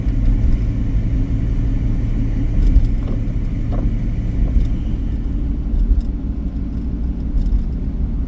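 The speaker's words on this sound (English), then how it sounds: "But yeah, just driving in snow." A car drives through a winter snow storm, heard from inside as a loud, steady low engine and road rumble with faint rattles and no talking.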